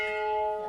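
A bar bell at a Nebraska bar, rung for old time's sake, sustains a bright ringing tone with steady overtones, heard alone as a lingering chime.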